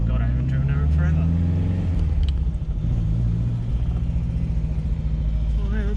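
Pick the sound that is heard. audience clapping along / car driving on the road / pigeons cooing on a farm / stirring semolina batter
car driving on the road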